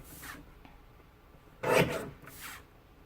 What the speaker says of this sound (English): Let's do some filing.